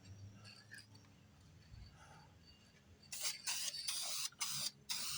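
Spray paint hisses onto a Johnson outboard engine, with a long burst followed by two shorter ones, fairly close and loud after a quiet stretch.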